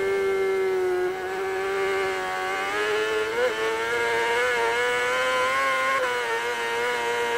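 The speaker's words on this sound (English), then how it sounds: "You can actually hear the revs of the bike working up and down as the bike squirms on the back suspension" A race bike lapping the Isle of Man TT course, recorded on-board near Union Mills while flat out in sixth gear. The engine drones loud and steady, its revs rising and dipping as the bike squirms on the rear suspension.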